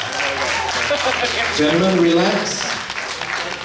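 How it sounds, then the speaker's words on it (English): Audience applause at a men's physique bodybuilding competition, a steady wash of clapping and crowd noise that continues under a male announcer's voice. "Round of applause, ladies and gentlemen."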